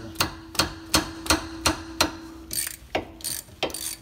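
A ratchet on an extension clicks in a quick, regular series of sharp metallic ratchet strokes while loosening rear brake caliper bolts on a Honda Acura, followed by a few irregular clanks near the end.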